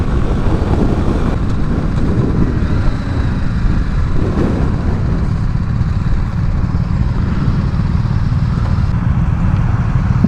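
A BMW G 310 GS motorcycle ridden hard, its small engine and wind rush forming a dense, steady roar that stays loud and close the whole way with no voices over it.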